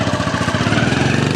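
A motorcycle engine running close by, a loud, rapid, even chugging pulse that stays steady for the short stretch.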